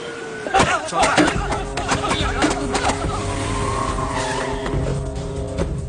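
A car pulls away fast with tires squealing and skidding, the engine revving loudly and steadily close by throughout.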